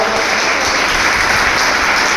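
Loud, dense audience applause at a public gathering fills the whole stretch, a continuous wash of many hands clapping close by with no break.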